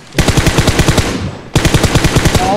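Video game gunfire in rapid automatic bursts, loud and close, with a brief pause midway before another sustained burst of repeated shots.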